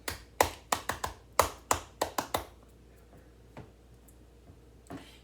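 Hand clapping from one person doing a happy dance in a home kitchen: about eight sharp, close claps in a quick, uneven burst, then quiet with one or two faint taps.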